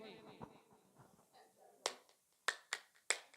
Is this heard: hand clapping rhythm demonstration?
yes